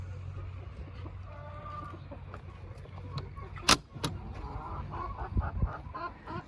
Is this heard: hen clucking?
yes